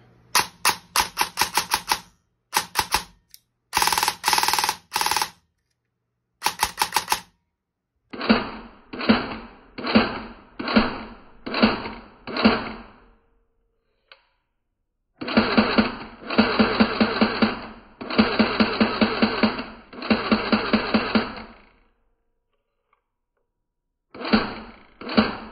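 Bursts of rapid mechanical clatter, an airsoft gun's gearbox with an 8-tooth DSG on a 7.4 volt battery cycling fast in repeated trigger pulls of varying length, with short silences between.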